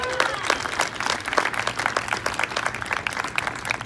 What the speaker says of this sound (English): Everybody, Sable, give him a round of applause.